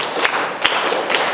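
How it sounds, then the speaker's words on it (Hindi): A group of schoolchildren claps in a government school classroom, a short burst of dense, close applause lasting about a second. "ताली बजाइए"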